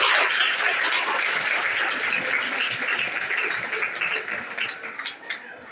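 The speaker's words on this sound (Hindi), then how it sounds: "तो तालियां बजाइए।" Children and staff at a junior high school prize ceremony in Varanasi clap together for a contest winner, a moderately loud, continuous patter that slowly eases off.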